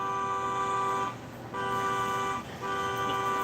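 A car horn honks outside an apartment building in a long, loud tonal blast, breaks off briefly, sounds again, then cuts out once more before a third blast.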